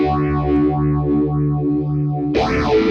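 Distorted electric guitar sustaining a thick chord while a slow phaser pedal, set at low speed, sweeps up and down in repeating arcs, then a brighter, harsher strum near the end.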